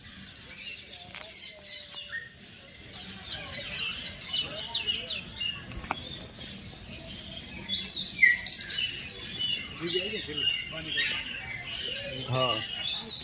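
Black parrots chirping and squawking as they jostle over food at Kamati Baug zoo in Vadodara, a busy chorus of overlapping calls with outdoor crowd noise and voices in the background.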